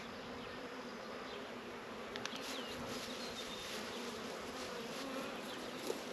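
A honeybee swarm buzzes steadily around a goat pen on a farm, a dense continuous drone with a few brief sharper sounds near the end.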